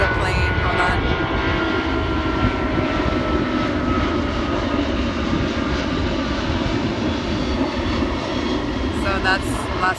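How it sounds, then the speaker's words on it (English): A fixed-wing airplane passes overhead near a Los Angeles beach, its engine a broad, continuous roar that stays strong and even for the whole stretch, with faint voices underneath. "there's a plane, hold on."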